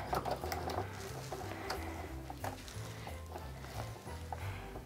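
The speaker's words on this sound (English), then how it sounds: "And I'm just kind of pulling things out of the way and stitching" A sewing machine stitches a quilted Christmas stocking seam with a quarter-inch allowance, giving a close, uneven run of mechanical chatter and fabric rustling, with short bursts and pauses as the fabric is shifted.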